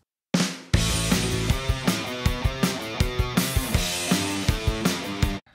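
A full multitrack song plays back with the bass drum muted, leaving a dense band mix. Sharp rhythmic accents fall roughly twice a second after a brief opening hit. It is loud and steady, with no voices over it.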